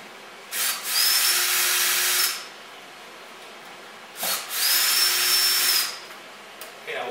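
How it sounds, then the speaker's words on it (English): A drill driver removing Torx screws from a Polaris RZR 900 whirs in two separate bursts, each lasting about two seconds and rising to a steady high-pitched spin before stopping, with quiet pauses between. "I've got mine installed here in my drill driver."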